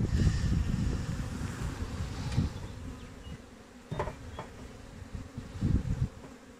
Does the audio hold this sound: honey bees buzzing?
yes